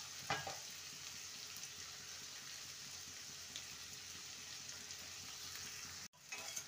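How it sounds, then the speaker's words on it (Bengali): Potatoes and okra fry steadily in a pan over low to medium heat, a continuous soft sizzle with a brief louder stir near the start and a momentary break near the end; no talking. "লো টু মিডিয়ামে রেখে আলুটাকে ভেজে নেব"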